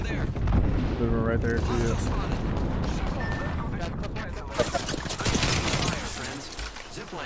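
Enemy gunfire in a shooter video game crackles in bursts through a dense, loud mix of game noise, with a player talking over it throughout.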